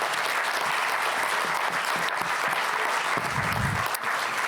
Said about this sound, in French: sous vos applaudissements nombreux